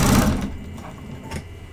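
A domestic sewing machine stitches a quilt in a brief whirring burst that fades quickly, followed by quieter mechanical taps, with no talk.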